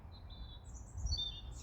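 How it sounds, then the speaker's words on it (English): Seagulls calling outdoors, thin high cries drifting in from a distance over a steady low rumble of background noise. "We've got some particularly noisy seagulls today joining us"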